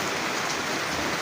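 Steady rain pours down during the monsoon season, a dense continuous hiss of drops striking surfaces, fairly loud and close with no voices over it.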